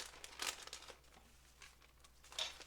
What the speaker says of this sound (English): I just wrap it up like this. Then I have a Ziploc bag that I just put it in